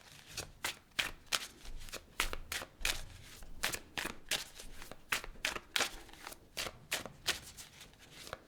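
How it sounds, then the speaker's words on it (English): Tarot cards being shuffled by hand, a steady run of crisp riffling and flicking bursts, close and fairly quiet, with no talking over it. "I'm going to clarify the cards and pull some advice."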